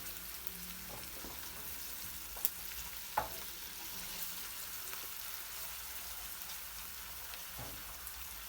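Chopped onion and tomato paste fry in a pan for lentil köfte, giving a steady, close sizzle with a few sharp stirring knocks and no talk.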